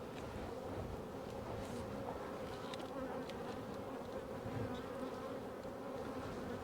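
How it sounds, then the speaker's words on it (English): A dense, steady hum of many bees swarming over a beehive super full of bees, a constant close drone with faint wind, no voices. "This is the other super full of bees on the same hive."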